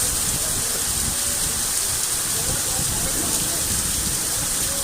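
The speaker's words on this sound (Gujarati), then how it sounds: "જો મિત્રો કરા પડી રહ્યા" Hail mixed with heavy rain pours down steadily during an unexpected summer storm, a dense, continuous hiss and patter close by with no pauses.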